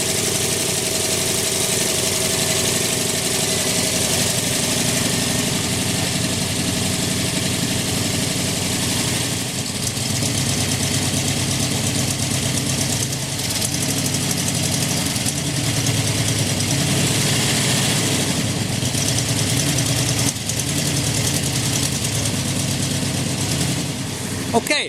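A 1982 Jeep J-20 pickup's engine idles roughly and unevenly for a long stretch, a close steady mechanical rumble with slight knocking, while a person talks over it.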